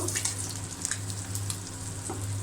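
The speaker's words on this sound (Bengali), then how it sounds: "ডিমটা ভালো করে ভেজে নেব" Egg fries in hot oil with a continuous crackling sizzle and scattered sharper pops, close up, over a faint steady background hum.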